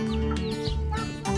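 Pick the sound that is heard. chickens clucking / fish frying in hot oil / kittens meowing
chickens clucking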